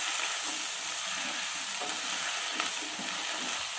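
Okra (bhendi) frying with turmeric and salt in a pan, stirred steadily: a continuous close sizzle with scraping stir strokes throughout, no voices.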